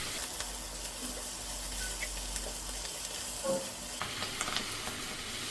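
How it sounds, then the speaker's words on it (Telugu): Ponnaganti greens cook with prawns in a pan, a quiet even sizzle and hiss punctuated by a few faint clinks and stirring scrapes, fairly low in level. "పొన్నగంటి కూర కూడా బాగా వేగాలి"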